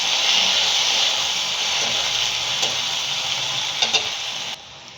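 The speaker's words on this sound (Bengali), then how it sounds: "পেঁয়াজটা আধ ভাজা হয়ে গেছে, টমেটোগুলো দিয়ে দিচ্ছি। টমেটোগুলো দিয়ে ভালো করে নেড়ে নেবো।" Sliced onions and tomatoes frying in oil in a pan, a loud continuous sizzle with a few clinks of stirring, close and steady with no talk before it cuts off near the end.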